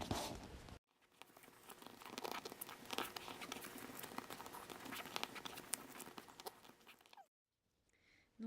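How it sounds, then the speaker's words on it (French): Origami paper is folded into a star, giving close, rapid crinkling and rustling with small taps and creases, continuous for several seconds between brief silent breaks. "je vais réaliser ce pliage"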